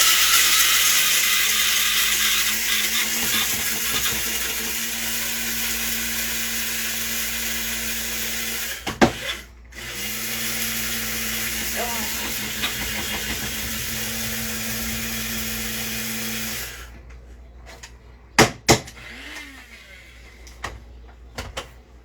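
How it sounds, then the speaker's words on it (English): A home coffee maker runs loudly, a steady winding mechanical whir that holds for long stretches, stops briefly, then cuts out with a few clicks and knocks near the end. "I know my coffee maker's loud too, but this thing is like a loud, winding loud."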